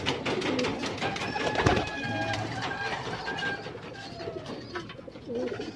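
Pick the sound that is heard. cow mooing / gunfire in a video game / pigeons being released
pigeons being released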